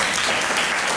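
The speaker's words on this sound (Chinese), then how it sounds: "大家给他鼓掌。" A classroom of students bursts into applause in a TV drama scene, a dense continuous wash of clapping filling the whole moment with no voices over it.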